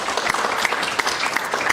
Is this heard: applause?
yes